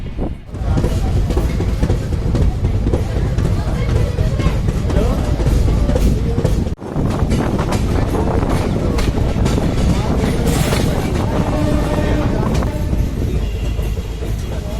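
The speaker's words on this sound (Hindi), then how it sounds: "हिमगिरी सुपरफास्ट एक्सप्रेस ट्रेन जो कि जम्मू तवी से आ रही है और हावड़ा जा रही है" The Himgiri Superfast Express, running from Jammu Tawi to Howrah, passes close by with a loud, steady rumble and rattle of rail cars and wheels, with a brief dip midway and some voices in the mix.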